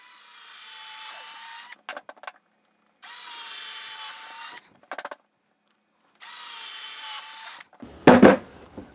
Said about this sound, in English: we'll pull out my drill and start drilling some holes for these.